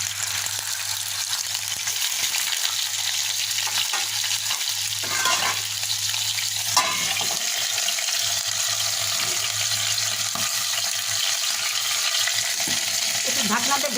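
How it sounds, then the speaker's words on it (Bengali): Chicken pieces rubbed with turmeric and salt fry in hot oil in a home kitchen, a steady close sizzle with occasional stirring scrapes and spatters running throughout, with no talking. "একটু ফ্রাই করে নেব।"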